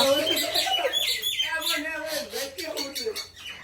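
Common myna birds call and chatter near a nest where a chick has fallen, with sharp chirps and squawks mixed with nearby human voices talking throughout.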